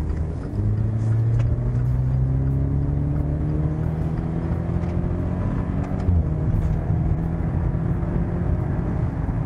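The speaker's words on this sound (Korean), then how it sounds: "이 330마력짜리 마일드 하이브리드 파워트레인의 가속력을 한번 알아보죠" Maserati Ghibli mild hybrid, a 330-horsepower 2.0-litre car in sport mode, accelerating hard: a loud, steady engine drone with rising harmonic sweeps, a brief dip near six seconds as it shifts, then climbing again.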